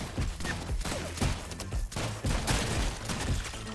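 Dense, continuous gunfire from a multiplayer shooting game, with rapid shots and impacts packed tightly together at a steady loud level for the whole stretch.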